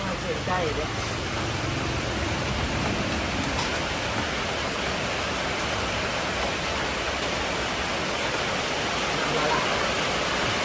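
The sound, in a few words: rain falling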